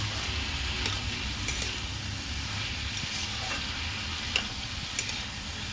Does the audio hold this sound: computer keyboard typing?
no